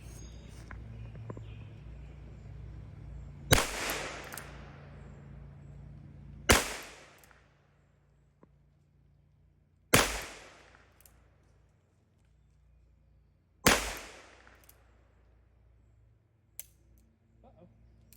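A Ruger Wrangler .22 revolver fires four sharp, loud shots outdoors, spaced about three seconds apart, each with a short decaying ring and no talk over them.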